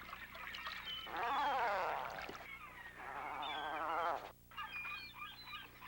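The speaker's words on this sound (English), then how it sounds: "everybody's favorite, the comical-looking tufted puffin. He kind of sounds like a cat stuck in a blender." Tufted puffin calls on a rocky Alaskan coastline: harsh, wavering, rasping cries in a few drawn-out bursts, fairly close and loud against a low background hum.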